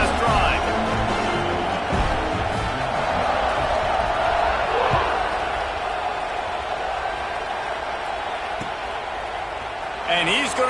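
Dense, steady roar of a stadium crowd cheering at a Penn State vs. Trojans football game after a touchdown, loud and sustained with a few whoops rising out of the din.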